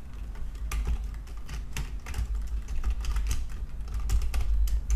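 Close-up typing on a computer keyboard, a quick uneven patter of soft keystrokes continuing without pause.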